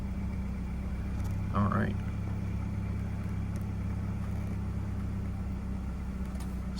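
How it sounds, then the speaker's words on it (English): A 2012-era BMW F25 X3 engine hums at a steady, low idle throughout, close by, with a man's short remark briefly over it. "So I'm going to crank up the vehicle"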